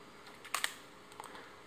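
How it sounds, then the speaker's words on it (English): The shutter of a Samsung NX500 mirrorless camera snaps with a quick pair of close, crisp clicks, followed a moment later by a fainter softer click in a quiet room. "So now I'm gonna press the shutter."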